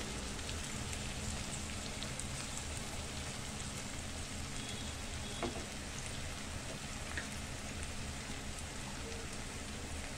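A steady, soft crackling sizzle of something frying in a pan until light brown while Telugu egg curry is prepared, continuous and fairly quiet with no talking.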